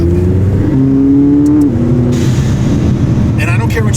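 A turbocharged McLaren 570S fitted with a full exhaust system revs loudly up close, with a sustained engine drone and a rising pitch that then drops back, and sharp hissing bursts near the end.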